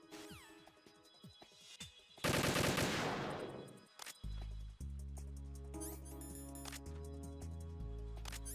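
Gunfire in the video game Metal Gear Solid 2, with a loud burst of shots and crashing impact around the middle, followed by music and game sounds.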